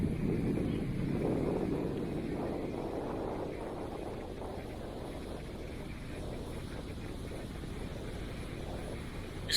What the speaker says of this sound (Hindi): हवा और यहाँ तक दरिया की आवाज़